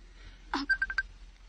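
A cellphone rings with a quick run of four short, bright electronic beeps after a brief click, fairly close and alone in a quiet room.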